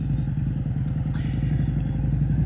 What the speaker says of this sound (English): I'm leaning the bike a little bit more.